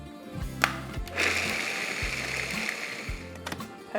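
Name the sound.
food processor grinding walnuts to a sand-like consistency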